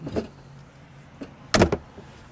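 Entry door of a 2023 Newmar Supreme Aire 4509 motorhome swinging shut, a faint rustle before a sharp, loud latching thump with a brief rattle near the end, close by and with no talk.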